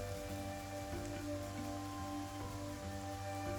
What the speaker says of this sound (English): The rain is still really loud.